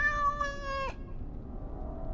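A house cat in Dragon Age Origins gives a single clear, drawn-out meow that rises and then drops off, close and alone over a faint low background.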